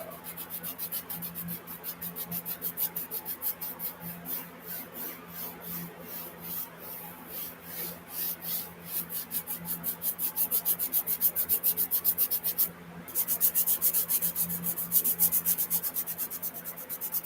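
Pencil shading being rubbed into a sketch of Mickey Mouse, a continuous rhythmic papery scrubbing in quick back-and-forth strokes, close and fairly soft, with a brief pause near the end before it resumes.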